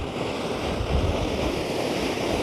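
Large sea waves break on a beach on the Holderness Coast at Dimlington, a continuous loud wash of surf roaring alongside wind noise on the microphone, with no voices.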